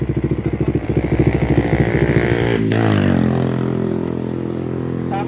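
A Bajaj Dominar motorcycle with dual exhaust idles with a loud, close, pulsing beat, then revs sharply before settling into a steady higher drone.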